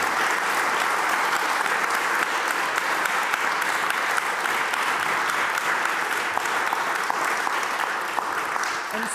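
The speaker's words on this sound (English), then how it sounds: "Can we give a round of applause to all of our speakers?" A crowd at a community event applauds its speakers with steady, dense clapping that fills the room evenly and holds at a constant level throughout, with no voices rising above it.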